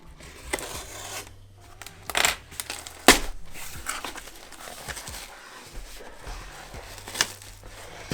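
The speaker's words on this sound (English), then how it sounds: "my dog is licking his water." A dog licks water from its bowl nearby, giving wet irregular laps and clicks with a few sharper knocks against the bowl, heard alone over a quiet room.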